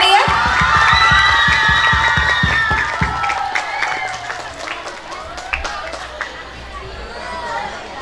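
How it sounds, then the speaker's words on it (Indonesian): A crowd at an elementary school sixth-grade farewell ceremony claps and cheers loudly at first, then the applause thins into scattered claps amid chatter and children's voices. "Beri tepuk tangan yang meriah."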